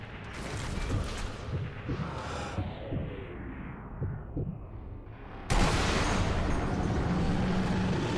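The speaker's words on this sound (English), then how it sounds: "they're even shooting back at me" Enemy soldiers shoot back in Sniper Elite V2, with a run of sharp shots cracking out at irregular intervals amid rattling mechanical noise, followed by a sudden louder, denser wash of battle sound.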